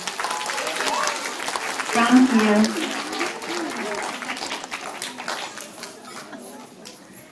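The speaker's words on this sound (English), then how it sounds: "Let's give these boys and this young lady and this young gentleman a round of applause." Applause from a school assembly crowd honoring award-winning students, a steady clapping wash that swells briefly then tapers, with a short spoken thanks partway through.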